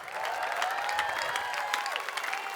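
A studio audience applauds a student on an Indonesian comedy show, with steady, dense clapping at moderate volume throughout, plus faint crowd noise and a few voices mixed in.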